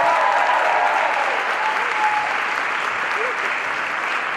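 An audience at an evening with Claudia Wells applauds, dense and steady clapping filling the room without a break from start to finish.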